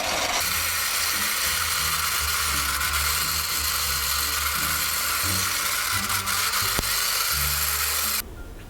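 An electric mixer whips instant henna paste with a loud, continuous motor whir and a rattling, churning texture as the beaters work through the thick mixture, then stops abruptly near the end.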